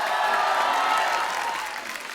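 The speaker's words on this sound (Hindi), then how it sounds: "पहले तो इनके लिए जोरदार तालियां बनती" Studio audience applause on a TV comedy show, a steady roar of many hands clapping that fades slightly toward the end.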